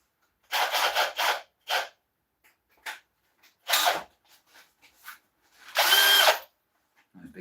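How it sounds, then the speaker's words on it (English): A cordless drill driver whirs in short, separated bursts during woodturning work on oak, several quick triggers followed by one longer, louder run near the end, with quiet gaps between. "Drill driver."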